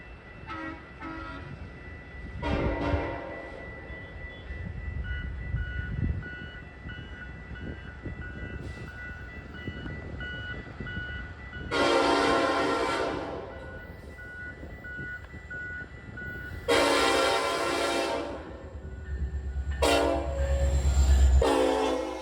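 Outbound train 2107, led by locomotive 513, passes very close, its horn blasting in several long, loud bursts over the steady rumble of the train going by, with no voices.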